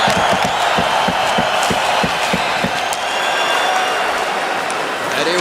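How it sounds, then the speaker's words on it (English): A hockey arena crowd roars and cheers steadily throughout an international pre-tournament game, Europe against North America, with a broad sustained wash of voices. Rapid thumping bangs sound in the first few seconds, and a commentator talks over the crowd. "Chara knocked out. Crowd likes that."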